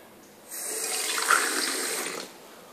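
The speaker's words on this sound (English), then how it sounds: "I'm going to pour water on Charlie." Water poured out of a cup in one continuous splashing stream lasting under two seconds, fairly close and steady, with quiet before and after.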